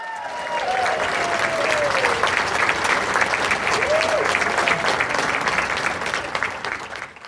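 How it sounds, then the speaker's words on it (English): Audience at a haunted house industry awards ceremony applauding Distortions Unlimited as it receives the 2025 Legacy Vendor Excellence Award, sustained dense clapping that swells then fades near the end. "everybody applauding right now"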